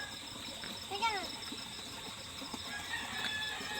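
Rooster crowing at dawn in a rural Philippine province, a single distant crow rising out of a quiet background of insects and faint ambient noise, with some soft talk.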